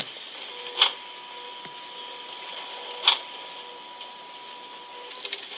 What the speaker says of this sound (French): Qui fait imprimer quelque chose derrière mon dos?